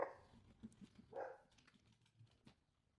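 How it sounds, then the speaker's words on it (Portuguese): Dogs barking somewhere in a home, with a few short, scattered barks and yips at moderate distance, fairly faint and spread across the clip with no talk. "Os cachorros começaram a latir"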